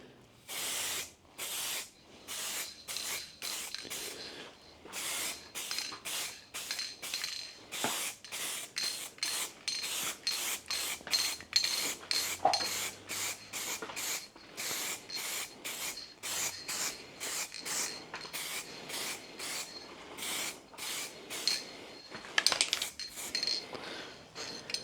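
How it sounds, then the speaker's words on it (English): Light first coat of spray paint going onto a motorcycle part during a GS refresh, heard as a long series of short hissing bursts in quick, steady rhythm, close and moderately loud with brief gaps between passes. "Right, very light spray to start with then,"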